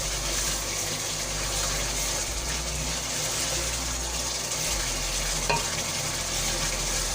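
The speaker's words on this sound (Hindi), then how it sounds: "प्याज को हम लाइट ब्राउन होने तक पकाएंगे।" Onions frying in a pan until light brown for an egg and potato curry, a steady, even sizzle that runs throughout, with a faint stirring clink partway through.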